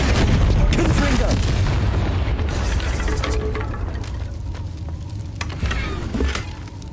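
Confringo blasting spell explosions in the Hogwarts Legacy video game, a dense run of booming blasts and rumbling impacts, loud and continuous, with a voice calling out spells over the din.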